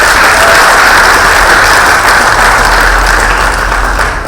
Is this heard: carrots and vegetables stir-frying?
no